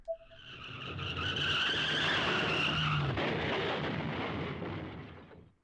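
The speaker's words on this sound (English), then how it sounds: "I heard a loud crash just outside my house. It was unmistakably a car wreck" In the horror video game Corpse Party: Blood Drive, a car skids with a long roaring tire screech that swells to a loud crash outside a house, then a heavy noisy rumble fades away, preceded by a brief sharp tap.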